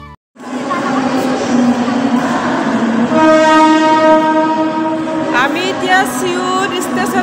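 A Mumbai suburban local train rumbles loudly at close range and sounds a long, sustained horn blast midway, with clattering rail noise continuing underneath to the end.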